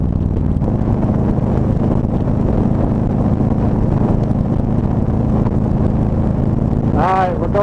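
A Harley-Davidson Road Glide motorcycle rides onto highway 85, its steady engine drone buried in heavy, constant wind rush against the microphone, with a short faint tonal sweep near the end.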